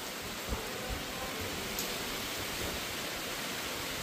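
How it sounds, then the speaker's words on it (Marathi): Heavy rain falls in the Konkan countryside, a dense and steady hiss that fills the whole stretch with no break, with no talk. "आता बघा लगेच पाऊस आला"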